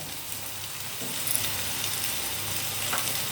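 Curry leaves hit hot oil for an egg masala and sizzle in a steady, close, crackling hiss that swells slightly partway through, with no voices.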